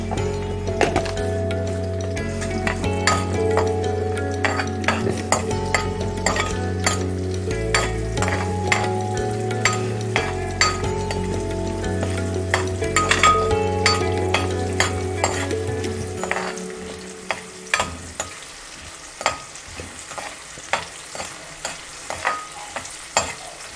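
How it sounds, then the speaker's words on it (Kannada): Onions frying in a pot for a vegetable pulav, stirred with a utensil: steady close sizzle under repeated clinks and scrapes. A low hum runs through the first part, then drops out, leaving sharper stirring knocks over quieter frying. "ಈರುಳ್ಳಿ ಚೆನ್ನಾಗಿ ಕೆಂಪಗೆ ಹುರ್ಕೊಳ್ಬೇಕು."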